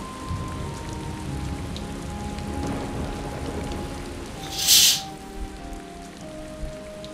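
Steady rain pattering on a surface, with a louder brief splash or gust near the middle and a faint low rumble beneath.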